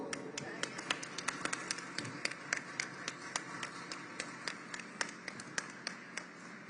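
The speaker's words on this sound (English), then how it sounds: "We make the applause to the people come for the stage, and we didn't stop since everybody be in the place" Scattered hand claps from a small audience as people walk up to the stage at a live climate participation event. The sparse, uneven claps keep going steadily over a soft background murmur.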